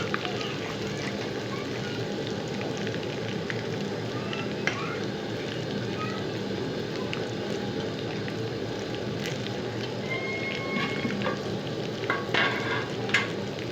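Continuous oily sizzle and crackle of a tadka tempering frying in a pan for aloo palak, steady and close, with occasional stirring clinks throughout.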